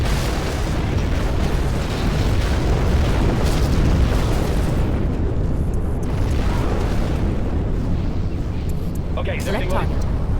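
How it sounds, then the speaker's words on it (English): A nuclear missile detonates in a war strategy video game, a sustained loud booming roar rumbling continuously for several seconds, with game voice prompts and sound effects layered over it. "Nuclear missile launched."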